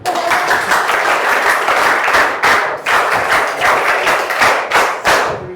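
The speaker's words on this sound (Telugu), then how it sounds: "చప్పట్లు కొట్టిండ్రా." An audience applauds at a public event with a politician present, steady dense clapping close by with a few louder thumping bursts, lasting throughout without pause.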